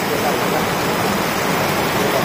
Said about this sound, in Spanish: miren qué rica lluviecita